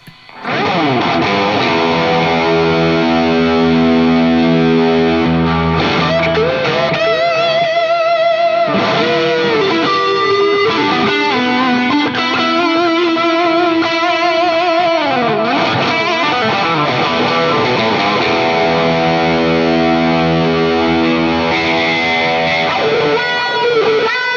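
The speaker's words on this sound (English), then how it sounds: "We have the tube screamer on, we have the delay on, and let's see how it sounds." Heavily distorted, high-gain electric guitar with a tube screamer and echoing delay repeats, sustained notes and bending lead lines, loud and continuous with no speech.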